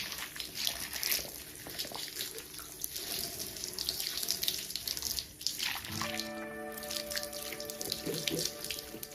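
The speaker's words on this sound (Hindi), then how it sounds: "अब पानी यहाँ पे अगर आपने कनेक्टर लगाया हुआ है तो वो आप मशीन से भी पानी गिरा सकते हैं" Water pours and splashes steadily from a commercial dishwashing machine, a continuous close running-tap rush with a faint tonal hum joining partway through.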